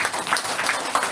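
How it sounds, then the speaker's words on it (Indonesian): An audience at a Jabal Nur festival gathering claps for the group, a short burst of scattered applause from a crowd. "Kita tepuk tangan dulu untuk Jabal Nur."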